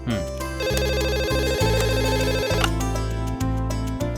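A telephone rings inside a shop, its bell-like ringing running loud and continuous with a steady pulse and a brief gap, set over busy background tones and music.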